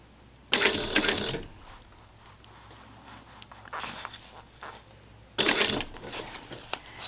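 A sewing machine stitches a gusset in two short loud bursts separated by quieter handling of fabric and small mechanical clicks.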